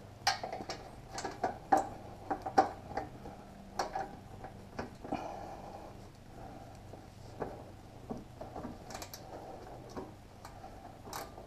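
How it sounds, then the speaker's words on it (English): A socket wrench ratchets on exhaust bolts while a Cobra Streetrod Slashdowns exhaust system is installed, giving faint, quick irregular clicks in short bursts with brief pauses, close by in a quiet space. "Now you got to take off these 2 bolts, and it's easier if you, since you got it loose already, you can pull this out a little bit so you can fit your socket on there"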